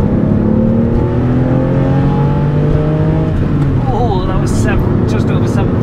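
Porsche 996 engine revving hard in second gear up to around 7,000 RPM, a loud rising howl with climbing harmonics heard from inside the car, then a shift and changing engine note near the end.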